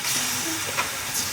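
Curry leaves, ginger and garlic hitting hot oil in a pan for kappa biryani, producing a steady close hiss of sizzling with a brief crackling spike, short and continuous.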